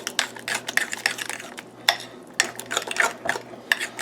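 A utensil stirs and mixes tzatziki sauce in a bowl with uneven scraping clinks and taps, some sharper knocks, fairly close and quiet, with no talking.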